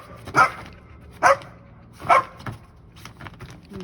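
A dog named Diesel gives three sharp, evenly spaced barks about a second apart, loud and close, followed by a quieter trailing yip.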